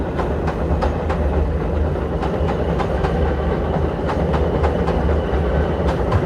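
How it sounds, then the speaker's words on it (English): A New York L subway train rumbles past, heard from a car with the windows rolled down, a loud steady roar with rhythmic clickety-clack wheel beats throughout and no talking. "You can hear the subway, sounds of the city."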